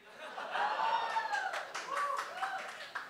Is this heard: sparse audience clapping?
yes